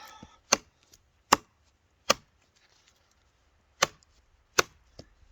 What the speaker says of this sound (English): It does have a fairly good feel when you're chopping.